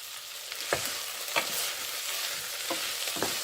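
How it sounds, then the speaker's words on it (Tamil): Dried anchovy and potato fry in a pan, a constant crackling sizzle broken by several sharp scrapes and taps of a spoon stirring the pieces, close and without talk. "நல்லா ஒருக்கா இப்படி கிளறி போட்டு இடையில மட்டும் கரண்டி வைத்து ஒருக்கா மிக்ஸ் பண்ணினீங்கன்னா நல்லது"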